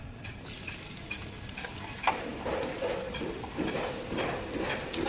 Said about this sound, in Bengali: এবার পেঁয়াজের বেরেস্তাটা এখানটায় ভেজে নেব।